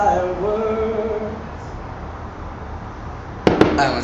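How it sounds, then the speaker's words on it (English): Fireworks outside a hotel in Portland, Oregon: a quiet outdoor stretch with a faint whistle, then two sharp pops close together near the end. "I can't believe there's fireworks."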